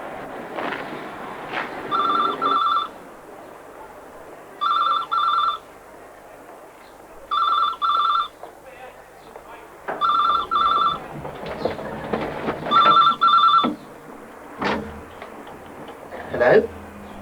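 A telephone bell rings in five evenly spaced double bursts, loud and close, in an indoor scene from a 1993 British television drama, with faint room noise and movement between rings.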